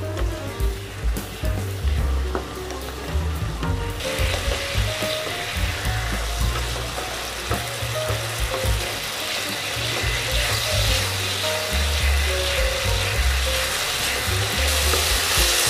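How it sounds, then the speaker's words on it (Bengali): Spice paste sizzles and spits in hot oil in a pan for methi bhindi aloo sabzi, a steady close frying hiss with scraping stirs throughout and a brighter, louder sizzle from about four seconds on. "এবার মশলাটা কষাবো"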